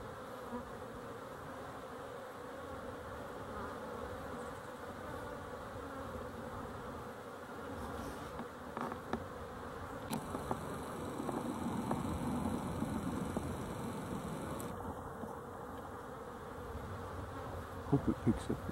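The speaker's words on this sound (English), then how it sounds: "Pretty bees." Honey bees buzz steadily throughout, a dense close hum of many insects with a faint high whine joining partway through and a few sharp knocks near the end.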